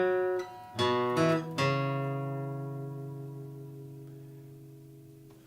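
A guitar plays a short phrase of four plucked notes in quick succession. The last note rings out and slowly decays in a quiet setting with no talk.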